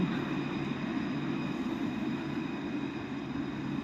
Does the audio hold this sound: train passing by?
yes